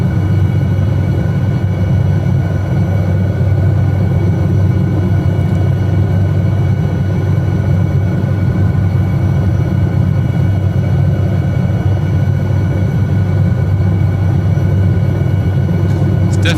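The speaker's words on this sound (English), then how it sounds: "It's definitely a helicopter that you are flying by the seat of your pants" An SA315B Lama helicopter flying over Lofoten, Norway, produces a loud, steady, unbroken engine and rotor drone heard from inside the aircraft, with a deep rumbling low end.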